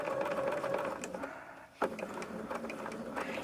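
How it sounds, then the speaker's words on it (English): A sewing machine stitches the binding around the corner of a baby quilt, a steady close whir that pauses briefly as the needle stops, then resumes running continuously. "That's where I want my needle to stop, because once I do that, I will turn my fabric to sew off to the corner."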